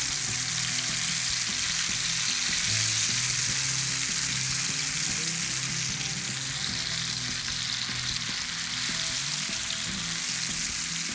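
Tawa chicken pieces sizzle and fry in a hot pan, giving a loud, continuous, close crackling hiss that holds evenly throughout.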